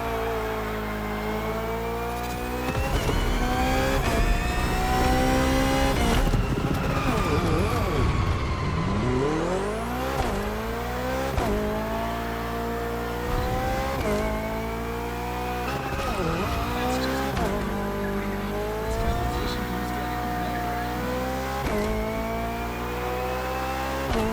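A BMW hybrid V8 race car in The Crew Motorfest roars through repeated rising and falling revs with gear shifts, a brief tire squeal and skid, loud and continuous throughout, with game voice audio mixed underneath.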